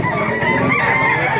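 Chickens and roosters at a poultry market in Baliuag, Bulacan, loud and close, with honking, crowing-like calls layered over a busy, continuous background of birds.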